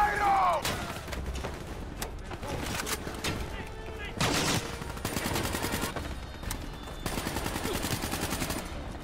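Gunfire rattles through a Call of Duty: Black Ops III campaign battle in Cairo, with steady bursts of automatic shots and a few louder volleys while game voices and a player talk over it.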